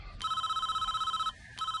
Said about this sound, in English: As soon as we got an incoming phone call